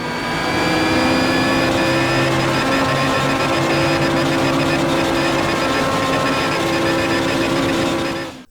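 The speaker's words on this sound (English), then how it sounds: "Shift 2 is used for showing the engine hit the limiter" Game car engine in Shift 2 held against the rev limiter, a loud steady high-pitched engine drone sustained at maximum revs throughout, with no talk.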